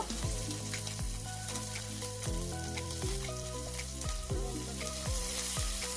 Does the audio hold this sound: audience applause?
no